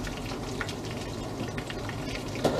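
Eggplant frying in plenty of oil in a pan, a steady, close, dense sizzle with crackling spatters that keeps going with no break and ends in a faint clink.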